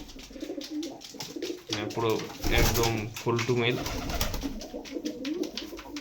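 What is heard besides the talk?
Andhra breed pigeons cooing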